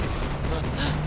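Rapid, dense gunfire in a shooter video game, a continuous rattling volley filling the moment with players' voices mixed underneath.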